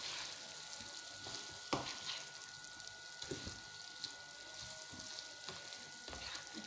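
Tawa boti meat being stirred with yogurt in a pan over a low flame, giving a steady soft sizzle with scraping spoon strokes and occasional clatters against the pan, alone without talk.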